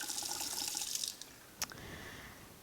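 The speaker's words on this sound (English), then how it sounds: "We're going to turn the water on." Lab water tap opened to run an aspirator, giving a soft broadband hiss of flowing water that fades after about a second, followed by a short sharp clink and a low steady trickle.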